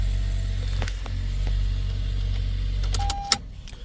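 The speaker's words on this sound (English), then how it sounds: "Car's running." A Toyota car engine idling after being started with a cloned H-chip key, a steady low rumble that cuts off near the end, followed by a short electric whir and a few clicks.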